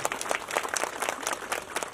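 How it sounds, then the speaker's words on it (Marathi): An audience clapping after a dance performance at a Ganeshotsav event, brisk rapid hand claps in a lively close burst, with no speech over it. "एकदा त्यांच्यासाठी टाळ्या वाजूया आणि जोरात घोषणा देऊया."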